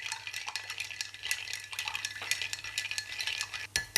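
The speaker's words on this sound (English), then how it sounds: "Got a bit of ice stuck to the side, Salty. It's fucking up my stir." A martini stirred with ice in a mixing glass, a rapid stream of light clinks and icy rattles from the spoon, steady and close, a bit faint, ending in a few sharper knocks.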